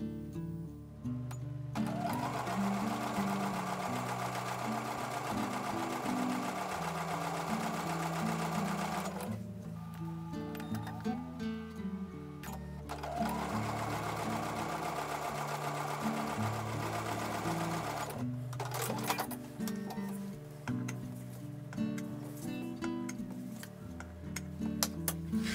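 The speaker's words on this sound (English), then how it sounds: "So I'm going to take these over to the sewing machine and chain piece them." A sewing machine chain-pieces quilt block pieces for a star quilt block in two long, steady bursts of rapid stitching separated by brief pauses, close and alone.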